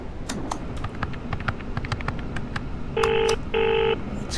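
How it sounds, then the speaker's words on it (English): A phone number is dialed in the video game Baisu: quick button clicks and taps are followed by two loud, steady dial tones, one after another, over a low ambient hum. "I guess we just dial the number automatically"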